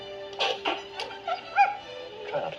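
Dogs in a 1996 movie trailer for Emma whimpering and yipping in short, high, whiny bursts, several yelps spread over a couple of seconds, close and clear with a faint steady tone underneath.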